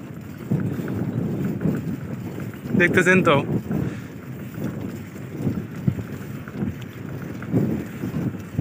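Strong wind buffets the microphone while cycling along a rural riverside road in hot, sunny weather, a constant low rumble with a brief louder gust. Someone talks over it.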